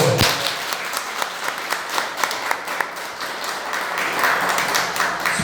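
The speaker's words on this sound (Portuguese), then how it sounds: "você pode aplaudir o nome do Senhor?" A church congregation applauds in a steady burst of clapping that carries on for several seconds, moderately loud with scattered sharper claps.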